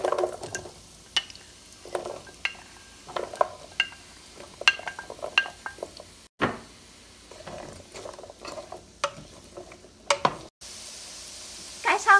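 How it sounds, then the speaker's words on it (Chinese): Daikon radish chunks tipped into a pot already holding ginger and garlic, giving a run of knocks, clatters and light sizzle-like rattles, moderately close, with brief pauses between bursts and no talk. "大萝卜倒进去"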